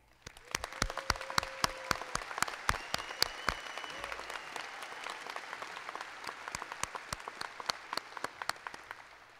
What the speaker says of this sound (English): Please join for a round of applause to the members of our graduating class today